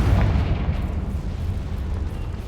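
A Confringo fire spell explodes in Hogwarts Legacy, a loud rumbling blast that rolls on with a heavy low-end boom and sustained crackle for a couple of seconds.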